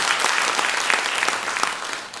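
A church congregation claps together during a Sunday service to welcome a first-time visitor, with dense, steady applause that stays even and fairly close for the whole stretch, and no speech over it.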